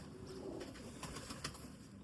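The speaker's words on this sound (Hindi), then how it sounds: "ये बिल्कुल ओरिजिनल कबूतर है। इसमें कोई क्रॉस नहीं है, सलारा प्योर कबूतर है।" A pure Salara pigeon, a black-beaked, black-winged breed, coos softly in a short low murmur against steady background noise.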